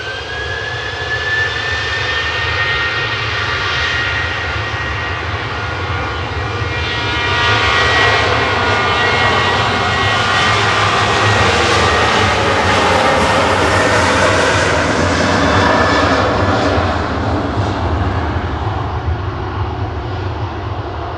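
An airliner departing Manchester Airport for Lamezia Terme produces a loud, sustained jet roar with a high whine, building slightly and holding strong through its takeoff, heard alone without talk.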